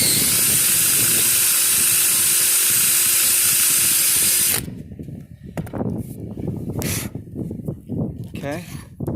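A power drill runs steadily for about four and a half seconds, boring a hole deeper to stop a wobble, with a loud, dense whir and a steady hum. It cuts off abruptly and close-up talking follows.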